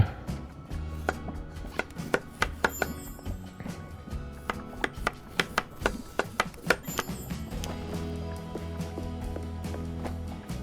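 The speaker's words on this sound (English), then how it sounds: "These we need to chop." Rapid knife chops on ingredients in the kitchen video game Chef Life ring out as a rhythmic series of sharp clicks over a steady game background hum, with no talking.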